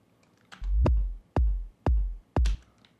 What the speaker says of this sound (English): So we have a kick that gets reversed into